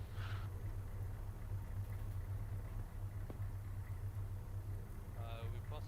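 A vehicle engine idles in a military video game, a low, steady, faint hum running unbroken under distant game noise, with brief voice-like sounds at the edges.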